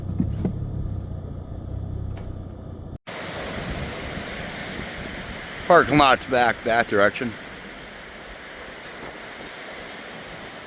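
Waves on Lake Superior on a snowy May day wash steadily onshore in a broad, continuous roar with wind noise, while someone briefly speaks over it partway through.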